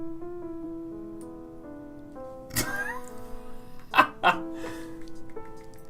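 A pet cat gives a few drawn-out, tonal meows at close range, with a couple of sharp knocks and bumps around them and no voices.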